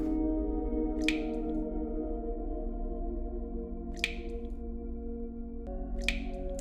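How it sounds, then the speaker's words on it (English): Water drips in the horror point-and-click game Abscission, three sharp clicking drops spaced a few seconds apart over a steady low ambient drone. "I think that clicking sound is actually a drip."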